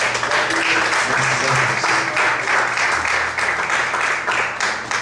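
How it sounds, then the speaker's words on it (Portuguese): A church congregation claps loudly for Jesus during a Portuguese-language service, a thick, sustained roar of many hands at close range with no break, voices faintly blended underneath. "Vamos aplaudir bem forte ao Senhor Jesus."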